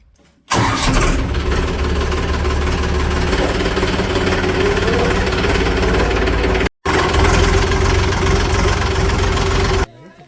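A loud tractor engine rumbles steadily up close during a groundnut harvest, cutting out for a split second midway before chugging on.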